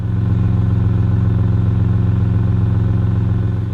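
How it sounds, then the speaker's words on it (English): Toyota 4Runner engine idling on a cold day, its exhaust giving a steady, even low rumble with a smooth, continuous pulse, loud and close, with no talking. "The exhaust sounds perfect."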